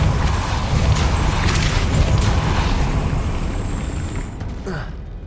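A forceful magical blast spell cast in the Hogwarts Legacy video game, a dense rumbling burst of impact and crashing noise lasting several seconds, with no talk.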